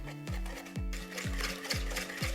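Melted butter whisked with light brown and granulated sugar in a bowl, a rhythmic scraping swish repeating about every half second, close, over a low steady hum.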